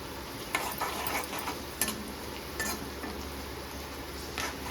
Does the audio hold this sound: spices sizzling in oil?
yes